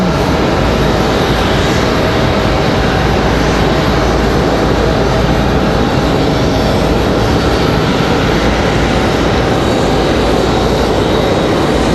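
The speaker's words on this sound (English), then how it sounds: "Do have Delta 508 on final, coming in from Los Angeles, California." A Delta Boeing 737-9 airliner on final approach into Raleigh-Durham roars loudly and steadily, a broad, unbroken engine rumble that stays close and constant from start to finish.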